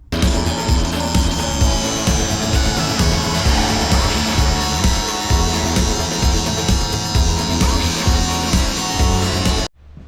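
Power tool cutting out stuck screws on a light fixture of a 1961 International Harvester B-163 bus, a loud continuous whining grind with rhythmic pulsing, running steadily before stopping abruptly near the end.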